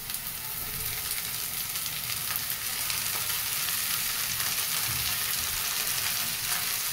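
Finely chopped phodshi, a wild monsoon vegetable, goes into a pan of fried onions and sizzles loudly and steadily, with soft stirring sounds running under the constant hiss.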